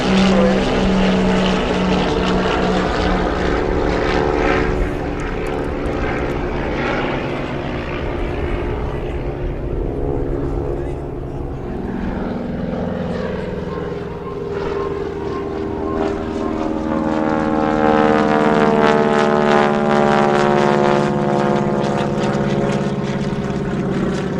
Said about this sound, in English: Watch these trainers, still more taking off to the left.